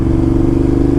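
A Ducati twin-cylinder cruiser motorcycle engine runs close by with a rough, throbbing pulse, loud and steady over a short stretch.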